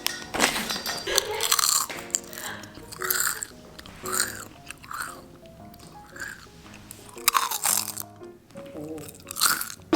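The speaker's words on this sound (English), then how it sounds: "Should we do who does the best ASMR crunch?" A dog eats crunchy food close to the microphone in an ASMR-style take, with repeated loud crunches and chewing spread across the stretch and the odd soft bite between them.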